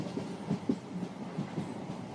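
Train rolling along rails through a jungle, a steady low rumble with soft rhythmic clacks of wheels over track joints, fairly quiet and continuous with no voices.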